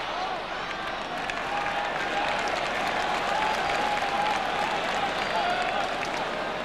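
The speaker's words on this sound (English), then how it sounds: "Yes, the crowd loved that little bit of handling." A crowd at a 1973 Varsity rugby match between Oxford and Cambridge applauds steadily throughout, a dense, sustained wash of clapping from a large stadium audience with no talk breaking through.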